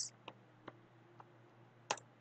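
A few separate clicks of laptop or PC keyboard keys as a title is typed for a live stream, sparse, sharp and close over a faint steady room hum.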